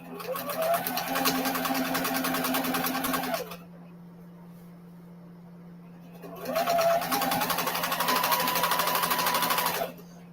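A sewing machine at a 3.0 stitch length runs through many layers of material in two loud, fast rattling bursts separated by a short pause, close and without talk.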